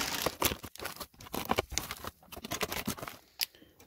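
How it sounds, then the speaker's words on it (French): Someone unpacks an Eleglide D1master e-bike, tearing and crinkling its protective packaging in quick, irregular bursts of rustling, ripping and crunching close by. "je vais déballer tout ça"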